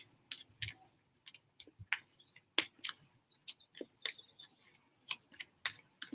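A tarot card deck is shuffled and a card drawn, giving quiet, close, irregular ticks and soft flicks of card stock with no one speaking.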